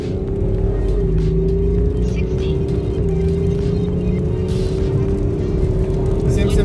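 A 2014 BMW X5 F15 30d diesel pulls hard under acceleration, a loud, steady engine drone rising slowly in pitch and heard from inside the car, with a faint voice underneath.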